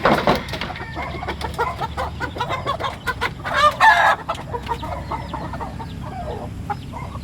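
White Kelso roosters at close range give repeated clucks and a loud crow partway through, with busy farmyard clucking continuing throughout.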